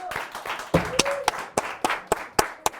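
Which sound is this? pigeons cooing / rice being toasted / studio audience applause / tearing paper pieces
studio audience applause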